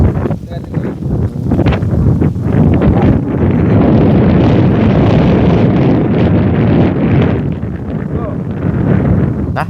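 Strong wind buffets the microphone outdoors by a house, a loud, continuous rushing roar that swells and holds for the whole stretch, with voices faintly mixed in underneath.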